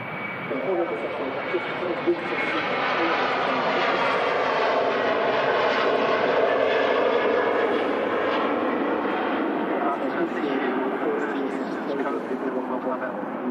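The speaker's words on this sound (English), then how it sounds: "Super loud departure there from the Air Lingus A330 300 series with them CF6 engines." Aer Lingus Airbus A330-300 with CF6 engines departing Manchester Airport, a loud, steady jet roar that holds strong throughout, with people talking over it.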